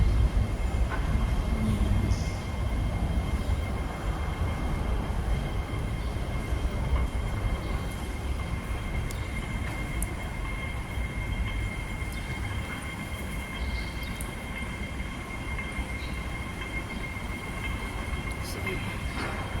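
An MTR train at a station, with a steady low rumble of rail cars and faint squealing wheels under the hum of a busy platform.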